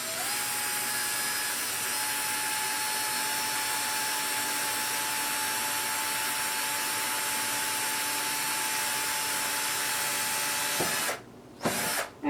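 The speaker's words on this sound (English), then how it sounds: "and drill a small little hole." A power drill whines steadily at close range for about eleven seconds, then cuts off, followed by a couple of brief bursts of noise.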